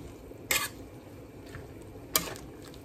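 A pot of chicken wing soup is stirred after boiling. Two distinct utensil knocks against the pot stand out over a low, bubbling background.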